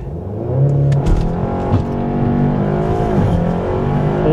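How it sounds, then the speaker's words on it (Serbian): A Skoda Superb with 350 hp makes a launch-control start, its engine note rising loud and close through a steady, sweeping acceleration with a brief gear-change dip. "ali ajde da vidimo kako ispalje Superb sa 350 konjskih snaga"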